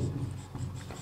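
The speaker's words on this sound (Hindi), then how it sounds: "तो एनवे पद का सूत्र लिखेंगे हम" A hand writes out a math formula for an arithmetic progression problem, producing short, close scratchy strokes in a brief burst with no talk.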